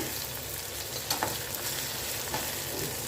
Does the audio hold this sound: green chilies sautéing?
yes